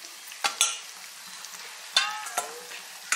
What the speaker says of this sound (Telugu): అల్లం వెల్లుల్లి పేస్ట్ వేగుతుందండి